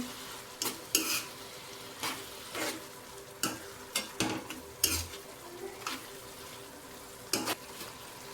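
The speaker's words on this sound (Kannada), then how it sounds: "ಹಾಗೆ ಮಸಾಲ ರುಬ್ಕೊಂಡಿದ್ನಲ್ವ ಅದನ್ನು ಹಾಕ್ತೀನಿ. ತಿರ್ಸ್ಕೋಬೇಕು ಚೆನ್ನಾಗಿ." Ground masala is stirred into mutton in a pan, with a soft sizzle under repeated sharp scrapes and clinks of a spoon against the metal at uneven intervals.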